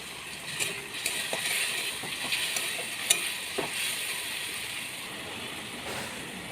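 Tomato paste with turmeric, chilli powder and Kashmiri chilli frying in a pan while being stirred, a close, steady sizzle broken by sharp clinks and scrapes of the spatula against the pan.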